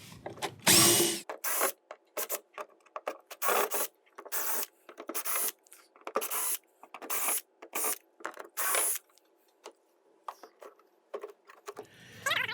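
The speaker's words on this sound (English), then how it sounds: "start by removing all the screws and taking away this hatch in the center of the cockpit" A power drill backing out screws from a hatch in the cockpit of a Hobie Mirage Passport 12.0 plastic fishing kayak, heard as repeated short whirring bursts with brief gaps, close and fairly quiet.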